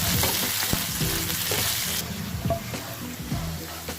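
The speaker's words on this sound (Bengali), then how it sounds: "এই তেলে আমরা আলুটাও হালকা করে একটু ভেজে নেব।" Potatoes frying lightly in oil with a pinch of salt, a steady close sizzle with scraping stirs and small knocks of a spatula in the pan, sharp hiss fading a little partway through.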